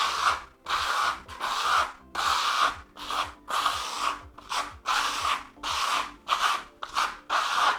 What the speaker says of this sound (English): you can tell that it's going on thinly because of that scraping noise